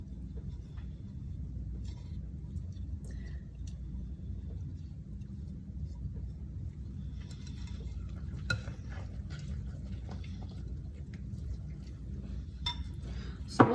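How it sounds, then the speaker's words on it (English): A bran and milk mixture stirred in a bowl, a low continuous scraping and sloshing with occasional light utensil clinks against the bowl, fairly close and steady. "So we'll just take a minute and stir this really well"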